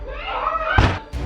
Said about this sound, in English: I'm breaking the door now.